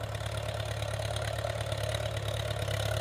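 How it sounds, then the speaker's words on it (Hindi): A Mahindra 275 tractor working in a farm field, its diesel engine running steadily at a close, even idle-like chug with a constant low hum and no talk. "तो ये ट्रैक्टर आ रहा है"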